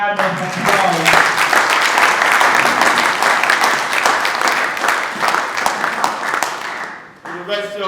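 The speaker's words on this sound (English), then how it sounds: "a loud round of applause" A loud, sustained round of applause from a crowd at a University of Ibadan anniversary ceremony fills nearly the whole clip, dipping briefly near the end before a short burst resumes.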